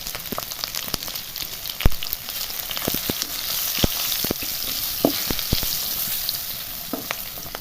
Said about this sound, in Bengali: আলুতে একটু হলুদ দিয়ে ভেজে নিই।